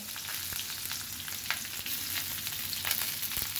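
Onions and chilies frying in oil in a wok, with a steady, moderate sizzle, intermittent spatula scrapes and small crackling pops throughout.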